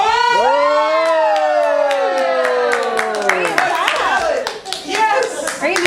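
People clap hands in a series of sharp, irregular claps up close while excited voices, including a child, call out and cheer over them.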